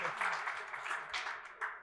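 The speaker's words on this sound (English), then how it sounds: "Yes, let's clap. We like clapping." Audience clapping in a conference-style hall, brief and fairly faint, a soft patter of hands lasting under two seconds.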